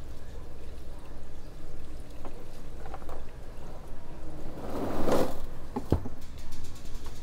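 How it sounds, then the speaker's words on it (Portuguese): Pool water poured into a pool filter to rinse it, a loud close splashing pour that swells and surges, with a few knocks and a sharp clunk partway through. "Vou jogar um pouco de água da piscina aqui dentro para dar uma lavada"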